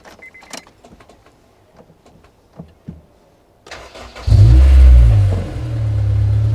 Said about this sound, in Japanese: ちょっとエンジンかけちゃいましょうか